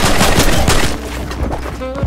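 Rapid bursts of weapon fire in the video game Fortnite crack loud and close, a dense volley that thins into scattered shots and ends with a short metallic ringing tone.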